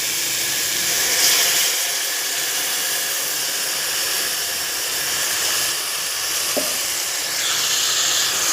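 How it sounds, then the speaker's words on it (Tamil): Steady loud sizzling and hissing as ground mint-coriander paste cooks in a hot pan for mushroom biryani, with a brief clink midway, continuing evenly throughout with no voices. "இப்போ நம்ம அரைச்சி வச்சுருக்கிற புதினாவையும் மல்லியும் நம்ம ஊற்றலாம்."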